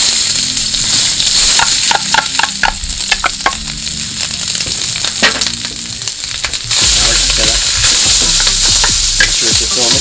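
Shallots, garlic and rice fry in a hot pan for egg fried rice, a loud continuous sizzle broken by repeated scraping stirs and clanks, close and steady throughout with no talking.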